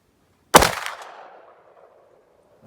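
A single sharp, loud 10mm pistol shot firing a 160-grain SST bullet at an outdoor bench, followed by a decaying echo that fades over about a second.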